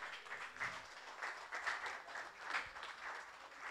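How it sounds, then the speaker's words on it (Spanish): Applause during a municipal council session in Valparaíso, a soft, steady patter of many hands clapping that stays fairly quiet and distant throughout, with no talk over it. "Aplaudamos esta imagen, ¿les parece?"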